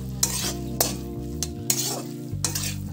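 A spatula stirs red amaranth greens with prawns in a sizzling pan. Scrapes and clatters come in distinct strokes over a steady frying hiss, with a low hum underneath.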